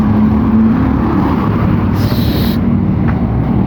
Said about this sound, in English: Ford Ranger, it's having a trailer.